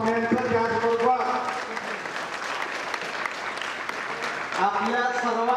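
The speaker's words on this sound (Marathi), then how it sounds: "जोरदार टाळ्याच्या गजरामध्ये प्रमुख पाहुण्यांचं" Audience applause greets the chief guests at a Mahar Regiment 85th anniversary event in Satara, a sustained crowd clapping that fills the whole stretch, a voice talking over its start and end.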